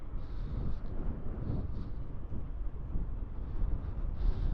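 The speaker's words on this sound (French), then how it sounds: "ce vent là qui s'arrête pas" Steady low rumbling wind buffeting a microphone during an electric mountain bike ride through town and countryside, continuous and loud with no pauses, brief gusty surges throughout.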